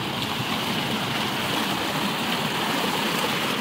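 A small waterfall in a park at Anand Sagar, Shegaon, pours in a steady, dense rush of falling water, close and constant with no pauses or voices.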